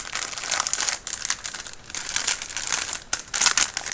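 A small packet of sewing trims being opened, its plastic crinkling and rustling in bursts of varying loudness, close by, with no talking.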